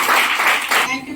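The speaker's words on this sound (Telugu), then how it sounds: "మరి గట్టి క్లాప్స్ కూడా" Loud, dense applause from an audience at a church children's Christmas program fills the clip steadily for most of a second, then drops back into quieter room sound.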